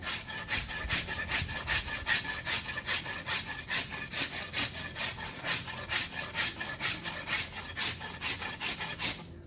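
Wood scraped from an Osage orange bow limb with a scraper, steady rhythmic rasping strokes repeated at an even pace, close and moderately loud, with no talk.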